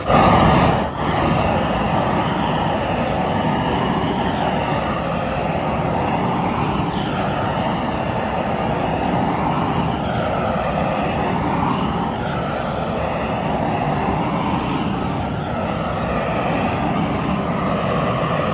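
A Massey Ferguson 1250 tractor engine running loud and close, a steady droning roar that swells slightly as it is given some gas, with no one speaking.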